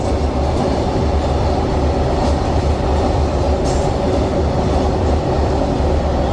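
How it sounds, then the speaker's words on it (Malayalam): A Vande Bharat train runs along the track with a loud, steady rumble of wheels and carriage noise heard from close by, continuous throughout, with a brief high squeal partway through. "ആ ഇത് വന്ദേ ഭാരത് അല്ലേ?"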